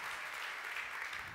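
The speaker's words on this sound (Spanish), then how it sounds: "Le das aplauso fuerte" Steady applause fills a church congregation during a Spanish-English sermon, a dense even wash of clapping held at a moderate, fairly distant level with no voices on top.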